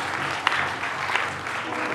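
A church congregation clapping in praise during a revival service in Mwanza, a short burst of steady mixed applause with faint voices beneath.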